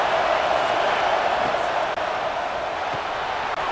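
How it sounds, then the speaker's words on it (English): A big stadium crowd at a college football game, Colorado at Oklahoma State, roaring in a loud, steady wash of noise that holds without a break. "listen to this crowd coming through"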